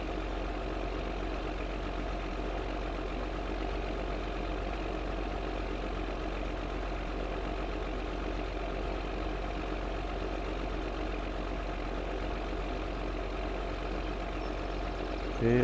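In Farming Simulator 2013, a John Deere 9770 combine engine drones while harvesting. It makes a steady, loud, low mechanical rumble that holds without a break, continuous and unchanging, with no voices over it.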